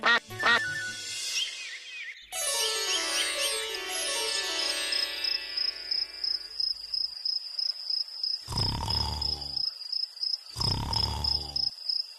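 Cartoon ducks quack repeatedly in an animated children's fantasy series, the calls coming in bursts with insect-like chirping, whistle tones and music woven through, and two loud close quacks sounding near the end.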